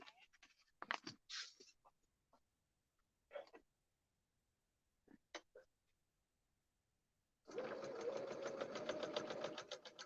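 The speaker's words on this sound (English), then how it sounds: "So we're going to sew right here between E2 and E1." A sewing machine stitches fabric for foundation paper piecing, a steady rapid whirring run starting late after several seconds of faint scattered handling noises and near-silence.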